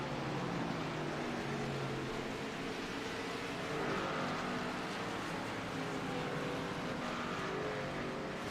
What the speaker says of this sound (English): Still green flag racing here at Richmond International Raceway for the GrassRoots 200